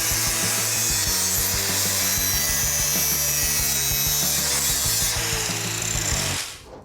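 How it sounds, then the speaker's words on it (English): A grinder cleans up the cut edges of a floor section from a car body. Its harsh, continuous abrasive rasp is loud and close and runs steadily before cutting off near the end, with no speech. "once the section is cut loose, a grinder will clean up the edges"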